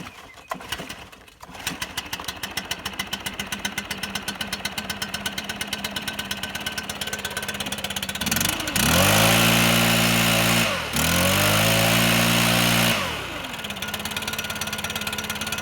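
A two-stroke leaf blower engine taken off choke after winter storage, idling with a rapid even putter before revving up loudly in two long bursts, dropping briefly between them, then settling back to idle.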